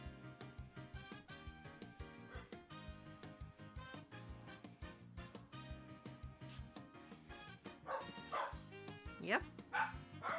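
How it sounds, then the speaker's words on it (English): Several dogs bark and yip again and again at a moderate distance, a steady run of barks mixed with other ongoing sound and voices. "What are they even barking at?"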